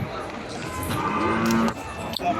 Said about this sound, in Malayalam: നാടൻ പശുക്കളാണെന്ന് എന്നോട് പറഞ്ഞു